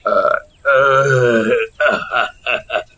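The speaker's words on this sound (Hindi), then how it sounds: "शरबत पीने के बाद लच्छा डकारते हुए बोलता है" A man gives a long, loud, drawn-out burp after drinking sherbet, then follows it with a few shorter voiced grunting bursts, close and with no other sound.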